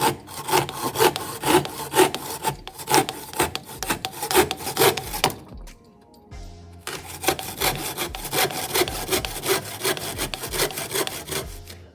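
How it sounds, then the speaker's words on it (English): Tenon saw cutting through wood for a device stand, rhythmic rasping back-and-forth strokes using the full blade length, loud and close, with a short pause midway before sawing resumes, no talking. "So using the full length of the tenon saw with each saw."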